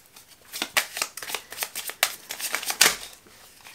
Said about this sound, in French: on va aller tirer une petite carte pour chaque ligne pour compléter tout ça